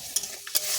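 Prawn curry being stirred in a frying pan, a brief close scrape of the spoon with a couple of quick clicks over a soft background sizzle.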